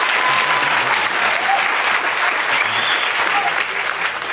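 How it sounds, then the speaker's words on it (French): A studio audience applauding on a television show, dense steady clapping that holds at full strength for several seconds and eases slightly at the end. "Applaudissez, s'il vous plaît."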